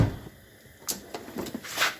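Drawer of a custom brushed steel Mac Tools Tech 1000 tool box being pulled open, a low thud followed by a few close metallic clicks and a sliding rattle.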